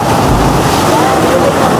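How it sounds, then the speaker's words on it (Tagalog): Loud, continuous roar of strong surf and waves crashing near rocks, with steady wind buffeting the microphone. "Malakas na alon"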